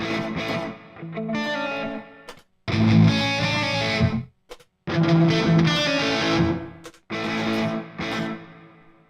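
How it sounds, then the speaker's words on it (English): Electric guitar through an IK Multimedia Tonex pedal with reverb and delay; chords and notes ring out with a spacious, washy tail, played in separate phrases with short silences between them. "this is the Tonex reverb delay, and I've prepared, of course, reverb and delay."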